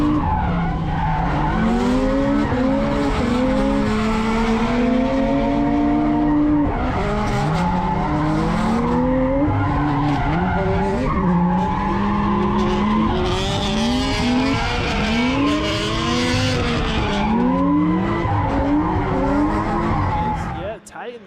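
Drift race cars slide side by side through a corner at a drifting event, tyres squealing continuously over wavering, high-revving engines, loud and sustained, with a commentator talking over it.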